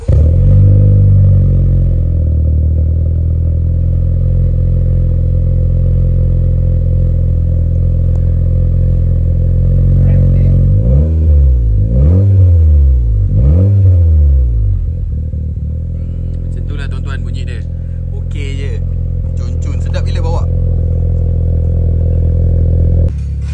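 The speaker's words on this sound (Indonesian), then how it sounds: "macam mana cool start kereta exhaust ni" A Honda Civic FK7 with a Spoon aftermarket exhaust cold-starts nearby, settling into a loud, steady idle, with a few rising-and-falling revs midway and some clattering noises near the end.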